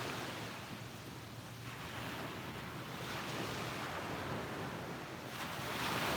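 Ocean surf rolls in at Vanderbilt Beach in North Naples, Florida, a continuous wash of breaking waves that swells and ebbs, mixed with wind buffeting the microphone.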